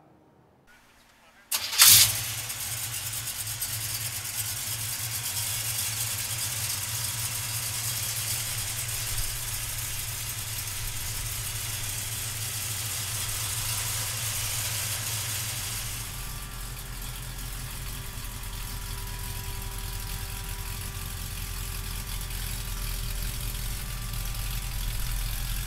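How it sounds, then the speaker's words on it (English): A 1948 Chevrolet five-window pickup with a big block V8 cranks briefly, catches and settles into a steady, loud rumbling idle that runs on unbroken, with the low throb deepening near the end. "let's fire this big block up"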